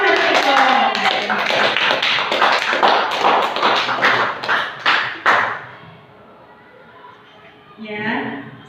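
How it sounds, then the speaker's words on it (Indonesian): Audience in a school computer lab clapping, starting as a brisk patter of many hands and thinning into a few separate loud claps before dying away, followed by a quiet gap and a brief murmur of voices. "Beri tepuk tangan untuk Bapak Desi Imam Harbiko."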